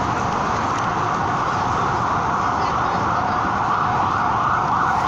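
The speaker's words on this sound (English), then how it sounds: "Sirens coming, let me get the fuck out the way." Emergency vehicle siren wailing loudly and continuously on a New York City street at 7th Avenue and 41st, close and steady, over constant traffic roar.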